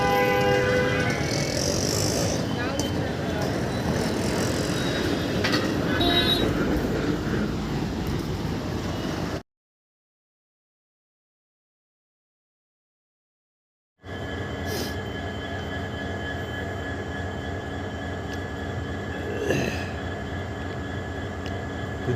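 An empty train standing on the railway gives a steady, close rumble with thin metallic squeal tones. The sound cuts out to several seconds of silence, then resumes with the same continuous texture.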